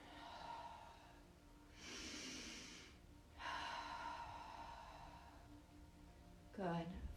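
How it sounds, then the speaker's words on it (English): Deep breaths during a gentle yoga class at a studio in Charleston, with two long airy exhales and a sharp sniff-like breath at the end, close and steady over a quiet room. "Breathing."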